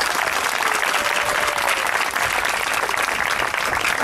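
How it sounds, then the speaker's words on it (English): A church congregation at a Corpus Christi Mass claps for the fathers, a dense, steady wash of many hands that stays loud and even for the whole stretch, with no talking over it. "Let's give our dads a special applause."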